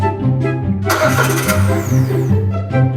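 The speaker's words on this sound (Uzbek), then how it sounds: "Mashinani zavod qildik" A car engine cranks and catches, then runs rough with a wavering mid-pitched hum and a rising rev; the car has an air filter fault and tends to stall. The sound is close and loud throughout.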